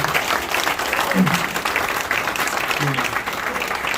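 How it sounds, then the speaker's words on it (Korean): An audience at a Korean church fundraising night for comic-book evangelism applauds, a dense, steady wash of clapping lasting the whole stretch, with voices mixed into the crowd noise. "박수 한번 쳐주면 감사하겠습니다"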